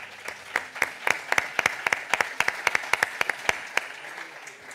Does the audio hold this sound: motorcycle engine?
no